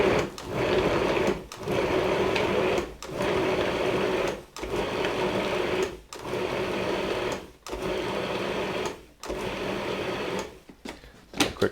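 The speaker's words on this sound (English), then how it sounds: "I'm going to keep pulsing until it becomes like a coarse meal" A food processor pulses butter, flour, sugar and salt into a coarse meal, its motor whirring in steady bursts of about a second each, separated by brief stops, loud and close with no talk.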